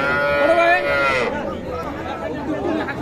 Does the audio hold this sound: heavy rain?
no